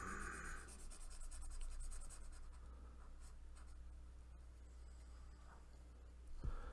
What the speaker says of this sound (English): let me get my eraser. Erase all this stuff here